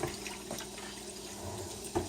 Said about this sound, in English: Oh, the water glass is getting full.